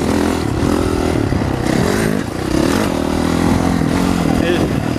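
A 450 motocross motorcycle engine running in third gear, a loud, steady buzzing roar with slight rises and dips in revs, heard close with a rider talking over it.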